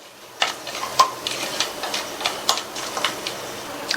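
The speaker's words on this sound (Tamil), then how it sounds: "எல்லா ஸ்பைசஸும் நல்லா பொரிஞ்சு வாசனை வரட்டும்" Whole spices, including fennel seeds, a bay leaf and stone flower, fry in hot oil for a Tamil-style tomato rice, giving a steady close crackle with light irregular pops and ticks throughout and no talk.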